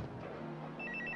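A telephone rings back after a number is redialed from a public call booth, with a short run of pulsed electronic ring tones starting partway through, clear and moderately faint.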